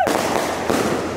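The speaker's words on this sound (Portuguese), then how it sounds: "Ó, Rojão." A loud, crackling skyrocket firework burst fills the moment, a sharp bang followed by a rushing, fizzing tail outdoors.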